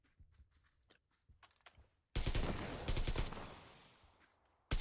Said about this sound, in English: I'm gonna blow these tires out.